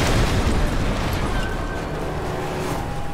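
A deep explosion from Call of Duty MW3 booms loud and close, its low rumble rolling out and slowly fading over a few seconds without any talk.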